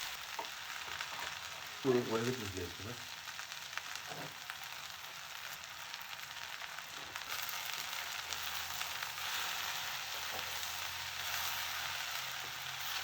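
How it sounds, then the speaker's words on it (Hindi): Onion fries quietly in a pan in a home kitchen before okra is added, giving a soft, continuous sizzle with a brief cluster of stirring clinks near the start. "प्याज डाला मैंने यहाँ पे, प्याज को बढ़िया सा, मतलब बहुत ज़्यादा नहीं पकाती भिंडी के लिए मैं"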